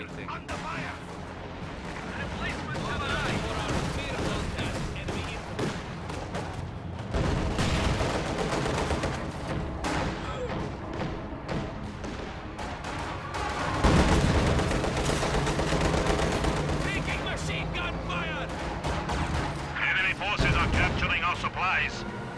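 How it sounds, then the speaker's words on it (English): Mine blast and heavy gunfire in a real-time strategy war game, dense rumbling explosions and rapid crackling shots rolling on continuously at close range, with someone talking over the battle. "I think a squad of grenadiers just got wiped by that mine"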